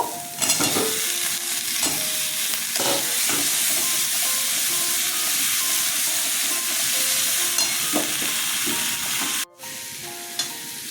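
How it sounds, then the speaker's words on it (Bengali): Eggplant pieces stir-fried in a spice paste in a pan for a pabda fish curry: a steady, loud sizzling hiss fills the clip, with repeated scraping stirs and brief spatula clatters. It dips to near silence once, shortly before the end. "আমি মশলার মধ্যে বেগুনগুলো কষিয়ে নেবো"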